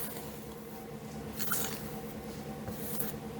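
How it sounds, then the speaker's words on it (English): Sultana bun dough being folded by hand with the ingredients makes soft, wet squishing and slapping sounds, close and steady. A faint continuous background hum runs beneath it. "You just get everything down in there and just fold until everything's incorporated."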